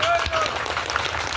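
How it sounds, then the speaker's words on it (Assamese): A crowd at a magic show claps together, a brief, fairly loud patter of many hands with voices mixed in over it. "এবাৰ হাত তালি মাৰক"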